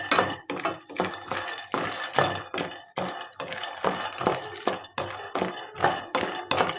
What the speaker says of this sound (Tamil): இந்த பருப்பில் வேர்க்கடலை மட்டும் தான் நீங்கள் நல்லா வறுக்கணும்